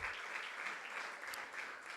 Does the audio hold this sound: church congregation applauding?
yes